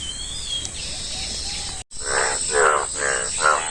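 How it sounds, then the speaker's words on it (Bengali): After a brief dropout, a few rhythmic croaking calls sound out one after another over a steady outdoor hiss. "ব্যাঙ্গে ডাক পারতাছে"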